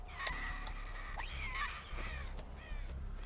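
Crows cawing in the horror video game Dead by Daylight, several harsh caws overlapping across a hissing ambient background, moderately loud with no talk.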